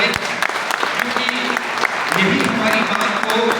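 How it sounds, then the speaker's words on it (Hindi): Crowd at a rally for unemployed youth breaks into sustained, dense applause for visiting journalists, steady clapping throughout with a voice faintly audible underneath. "इन सभी के लिए जोरदार तालियां हो जाए"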